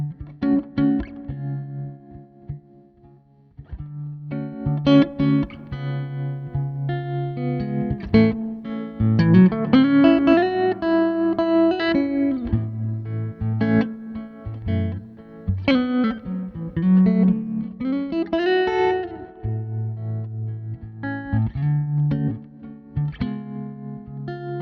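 A Sky King guitar amp played with tremolo and reverb, sustained chords and single notes pulsing in steady waves and trailing into a roomy decay, a clean rounded tone throughout the passage with no one talking.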